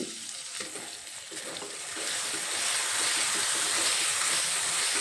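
Masala spice paste for a bele fish jhal curry is stirred as it fries in a pan, a steady close sizzle and hiss with scraping stir strokes that grow a little louder partway through.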